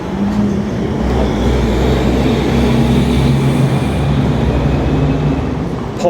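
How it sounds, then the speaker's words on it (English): Big trucks rumbling past on a small-town main street in Bloomsburg, Pennsylvania, a loud continuous low roar of engines and tires that swells and holds for several seconds, drowning out everything else. "I can't hear myself when these big trucks come through"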